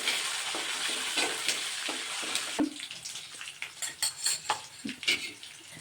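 Green chillies and curry leaves sizzle hard in hot oil for tempering, a dense crackling hiss with sharp spits and pops, plus scattered clinks of a spoon against the pan.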